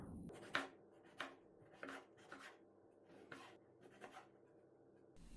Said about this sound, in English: Slice the tomato.